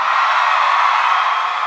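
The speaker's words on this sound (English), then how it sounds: "Harry Potter fans, let me hear you scream." A large Harry Potter fan audience at a celebration event screams and cheers in a steady, loud, continuous roar with no break.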